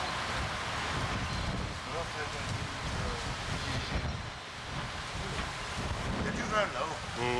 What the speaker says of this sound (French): Il y a du vent là-haut.